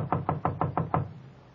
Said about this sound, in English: She knocked on the door of room 12.